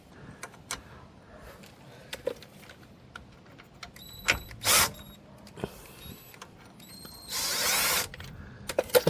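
A bolt is worked out of a Ford Puma Mk1 lower control arm with a spanner and a power tool, giving scattered metallic clicks and taps, two short bursts of whirring, and a closing clatter.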